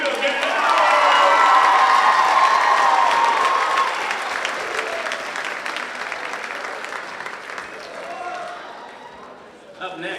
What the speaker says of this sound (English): Ladies and gentlemen, give a round of applause for number 5, Camille Guerrero.